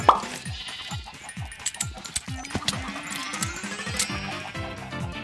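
A flock of Minecraft sheep bleats over and over in the video game, many overlapping wavering calls piling up close and loud, with faint clinks mixed in underneath.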